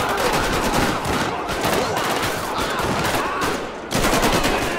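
Dense, continuous bursts of automatic gunfire in a gang shootout in the video game GTA5, loud and close, rattling almost without pause, with a brief dip before resuming.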